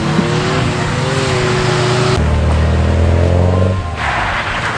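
A historic Volkswagen Fox rally car on the Oulton Park skid pan roars loudly close by, its engine revving and shifting pitch as it slides sideways, with tire scrub under the steady engine note.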